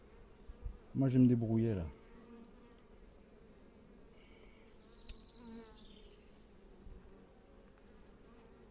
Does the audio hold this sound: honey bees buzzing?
yes